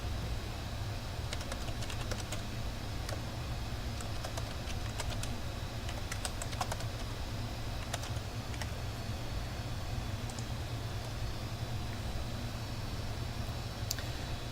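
Fingers tap out a password on a computer keyboard in sparse, faint clicks with small irregular bursts, under a constant low hum of background noise.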